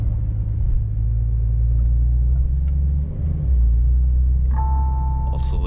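A 2020 Porsche 992's engine and exhaust rumble steadily and loudly from inside the car while driving, a deep continuous drone with a brief dip partway through.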